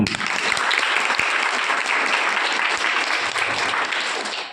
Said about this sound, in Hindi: उस महान आत्मा की जोरदार तालियां